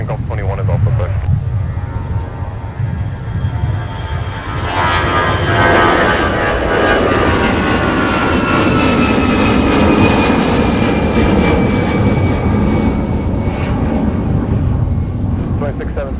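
Jet aircraft engines roar through a takeoff roll at MSP airport in winter. The roar swells loudly and stays sustained and broadband, with a faint earlier section of engine noise before the surge.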